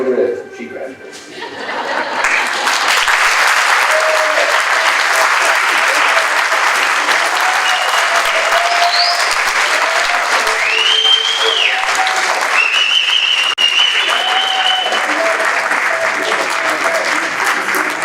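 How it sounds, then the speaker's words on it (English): A large crowd claps loudly and steadily, with scattered cheers and whoops rising above the sustained applause after a brief quieter start. "Again, a big round of applause, please, for Jennifer."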